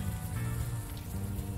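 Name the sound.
rain falling in the video game Unavowed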